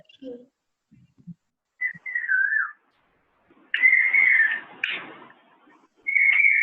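A person whistles an imitation of a koel bird call in short, bright phrases separated by pauses, close to the microphone, with a few faint knocks between them.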